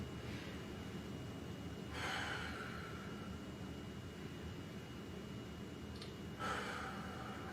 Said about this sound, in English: all I'm going to do to practice though is exhale, brace, and then breathe behind the brace